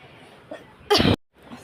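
A single harsh cough bursts out close to the mic, brief and loud, followed by a short silence and faint background, from a person whose throat is hoarse.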